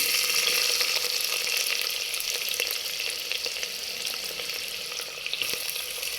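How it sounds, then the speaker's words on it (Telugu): Onions sizzle steadily in hot oil with whole garam masala spices (cumin, cardamom, cloves, cinnamon) for a liver curry, a dense continuous fry with light stirring throughout and no voices. "ఆనియన్స్ కొంచెం గోల్డెన్ బ్రౌన్ వచ్చే వరకు వేయించుకోవాలి"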